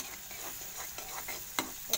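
Masala for an omelette curry frying in a pan, a soft steady sizzle broken by a few scraping stirs and a light clink, close but fairly quiet, with no talking.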